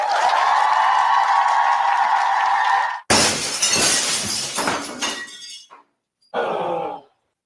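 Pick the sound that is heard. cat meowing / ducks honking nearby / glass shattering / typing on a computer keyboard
glass shattering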